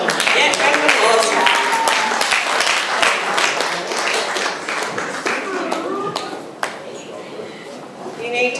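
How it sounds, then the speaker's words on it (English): Wedding guests give a round of applause at a reception, lively clapping with cheers and chatter that gradually thins out into scattered claps and talk. "round of applause."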